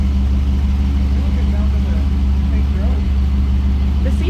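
A Chevelle engine idles steadily while warming up, a low, even rumble running throughout, with people talking over it.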